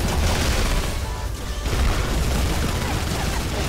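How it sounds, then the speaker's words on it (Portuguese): Dense, loud bursts of gunfire from a shooter video game fill the whole moment, rapid overlapping shots with only a brief dip before the firing surges again. "Errei todos os tiros nele, rapaz"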